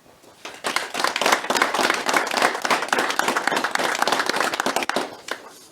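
An outdoor audience at a brevet event in the Diois applauds the sponsors, a dense burst of clapping that swells quickly and holds steady for several seconds before tapering off.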